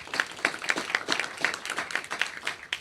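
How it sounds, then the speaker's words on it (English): A small crowd claps in a steady patter of overlapping handclaps, moderately close, with no voices over it. "a round of applause for them would be great."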